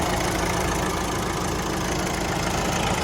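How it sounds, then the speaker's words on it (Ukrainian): A diesel car engine idles steadily, a continuous low rumble with a slight rough knock, close by and unchanging throughout. "Двигун працює ідеально"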